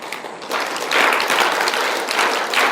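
A group in a mentors' workshop claps together on command as an exercise, a dense, steady burst of many hands close by, with slight swells in loudness.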